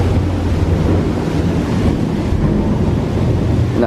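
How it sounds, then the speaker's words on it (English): Very heavy rain pours down in a thunderstorm on a campus during a power outage, a dense continuous roar with a strong low rumble and gusty noise, loud and close throughout, with no talk. "It is just raining ridiculously hard."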